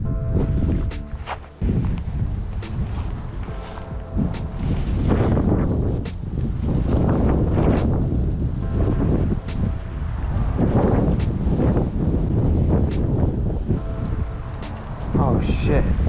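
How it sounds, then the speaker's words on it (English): Strong wind buffets the microphone outdoors on a fishing trip, a steady loud roar with gusty surges throughout, a few light knocks and rustles, and someone speaking over it at moments. "It's pretty freaking windy here"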